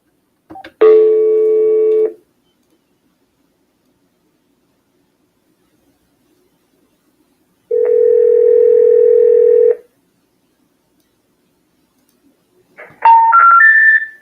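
Telephone dial tones and dialing beeps while making cold calls: a steady tone for about a second, a longer tone after a silent gap, then a short run of rising keypad tones near the end. The tones are loud and clear with no talk.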